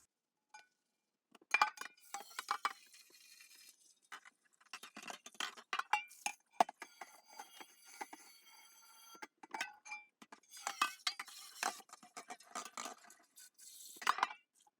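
Washing the outside of a Big Berkey water filter produces close, irregular clinks and knocks with splashing water, in scattered bursts and no talking.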